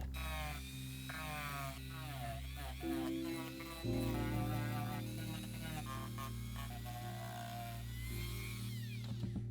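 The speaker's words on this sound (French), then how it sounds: "je vais les poncer à la Dremel" A Dremel rotary tool sands the edges of vegetable-tanned leather for a molded phone case, giving a steady high-pitched whine with a low motor hum beneath it that shifts pitch as pressure on the edge changes.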